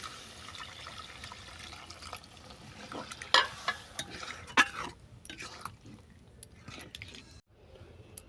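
Chicken being stir-fried with cumin and coriander powder in a pan: soft, low sizzling under repeated scraping and stirring strokes, with a few louder clacks of the spoon.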